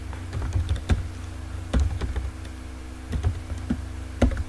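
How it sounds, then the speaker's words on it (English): Keys on a computer keyboard tapped while an email address is entered, irregular close clicks in short bursts with brief pauses, over a steady low hum. "So you type my email address and click send"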